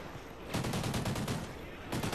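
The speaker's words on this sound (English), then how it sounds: "Gun shoots straight, I like it. Remington is solid." A Remington rifle fires in the video game Ghost Recon: a rapid burst of close, loud gunshots, then a pause, then another burst starting.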